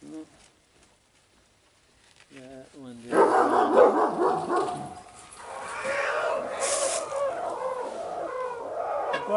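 A dog barks in short repeated bursts close by, in a workshop where a chair is being refurbished with staples, the barking growing busier and mixing with clucking-like yelps and scuffling.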